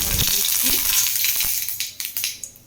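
Whole spices tempered in hot oil for a cucumber and crab curry, sizzling loudly at first and then dying down into scattered crackles and pops.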